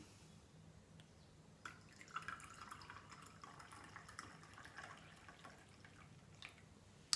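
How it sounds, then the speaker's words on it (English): Tea poured from a pot into a cup indoors, a soft steady trickle of liquid filling the cup over several seconds, faint and close with no talking. "Let me just pour my tea."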